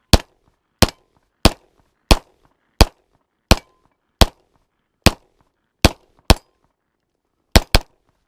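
Daniel Defense H9 pistol fires eleven sharp, loud shots at a steady pace of roughly one every two-thirds of a second, with a quick double near the end, each cracking close and dying away fast.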